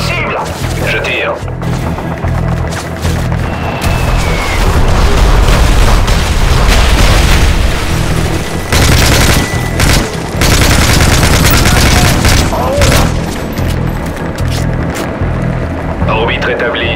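Heavy gunfire and explosions in Call of Duty Modern Warfare 3, loud sustained barrages and booms close by, with French-speaking voices heard at moments.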